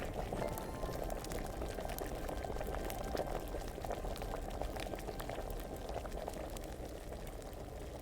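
An alchemy potion boils in Kingdom Come: Deliverance, a continuous bubbling and gurgling of liquid in a pot, steady and fairly quiet with no voices over it.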